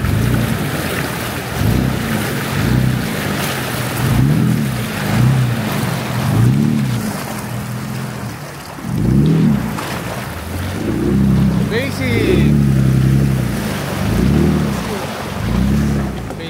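A Jeep Rubicon fords a shallow river on a trail near Kinabuan Falls, with a rumbling engine and splashing water that surge and fade in repeated waves under wind buffeting.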